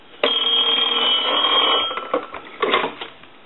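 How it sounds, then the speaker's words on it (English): A Conairphone Metropolis telephone under repair rings in one loud, close electronic burst lasting under two seconds, then cuts off, followed by a few softer clicks and clunks of handling. "Now what I'm going to do is catch it on a ring cycle and turn it off."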